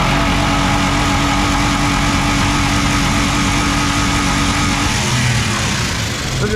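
A 7.3 Powerstroke engine revs hard toward redline during a -42F cold start in Detroit, a dense, loud, continuous roar that is held steadily and eases slightly at the end, with no talking.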